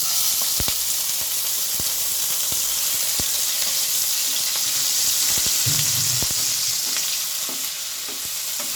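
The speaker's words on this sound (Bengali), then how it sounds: "তেলটা গরম হয়ে রেখেছে আমি দিচ্ছি এখানে ঘষে রাখা পেঁয়াজ" Grated onion sizzles in hot oil in a wok for a prawn malai curry, a loud continuous frying hiss with scattered pops and stirring clicks, close and without any talk.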